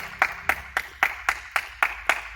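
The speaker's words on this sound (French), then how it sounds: "Et je pense qu'on peut s'applaudir super fort." Eight evenly spaced claps about every quarter second, close and fairly faint, from a small group applauding themselves at the end of a parents-and-children lesson at home.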